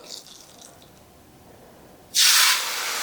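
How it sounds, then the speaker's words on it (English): A sudden loud hiss of olive oil sizzling in a hot pan bursts in after quiet, then settles into a steady, close frying crackle. "Let's see if we have a sizzle."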